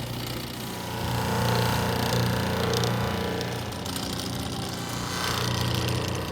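A buffing wheel polishes a nonstick pan with wax rouge, giving a steady, loud motorized whir with a rough grinding texture that swells and eases as the pan is pressed against the wheel.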